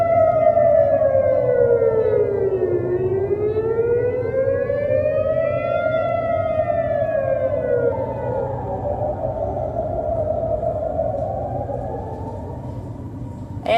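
A civil defense air raid siren wails in Israel, its pitch rising and falling in long sweeping cycles, loud and steady throughout with a low rumbling background underneath.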